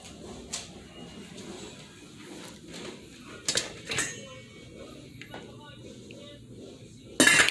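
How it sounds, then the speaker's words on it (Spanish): A lid goes onto a cooking pot of rice with a few light metallic clinks and a sharper clatter right at the end, amid quiet kitchen handling. "Lo vamos a tapar, ahí lo vamos a dejar cocinando."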